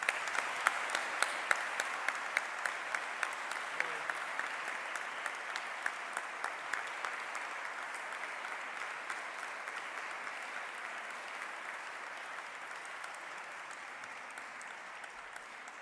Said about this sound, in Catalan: Us demano un fort aplaudiment per totes elles i ells.